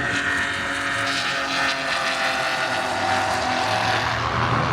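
Racing cars lapping the Silverstone circuit during the Silverstone Festival 2025, heard as a continuous loud roar of engines that swells and fades as cars pass at mid distance, with no talk over it.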